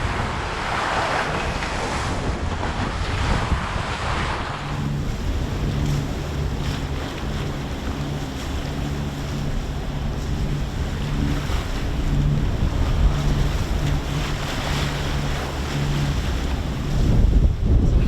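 Strong wind buffets the microphone on a sailboat at sea, a steady roaring rush mixed with waves washing against the hull, continuous and loud with gusts building near the end, no talk.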